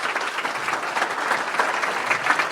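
Audience applause fills a Rotary club meeting honoring the United Way of Dane County president and CEO, a dense, steady round of clapping from a room full of people, fairly close and without talk.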